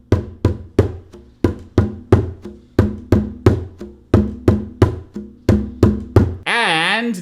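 Djembe bass strokes in an Afro beat pattern ring out as a steady run of deep, close thumps, ending in a brief sustained tone.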